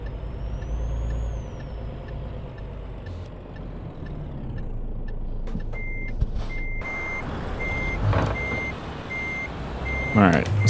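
Reversing beeps from a truck backing a trailer in Euro Truck Simulator 2, Scandinavia DLC, sound as a steady, evenly spaced series of high tones over a loud engine rumble, with a hiss of air brakes near the end.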